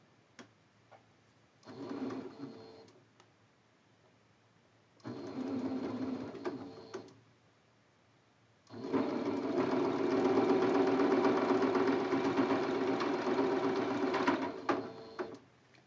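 A sewing machine stitches quilt block seams for a Double Necktie block. Two short whirring bursts come first, then one long continuous run, with quiet pauses between them.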